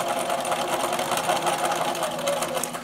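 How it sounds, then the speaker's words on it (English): A sewing machine stitches steadily around the top of a fabric trick-or-treat bag with a half-inch seam allowance, a continuous close whirring hum with rapid needle ticking and no pauses. "now we're going to sew all the way around the top using a 1/2 inch seam allowance"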